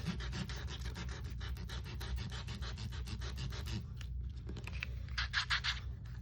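Steady rhythmic scratching of sandpaper rubbed back and forth over a surface, close and continuous, with a brief pause before a few harsher strokes.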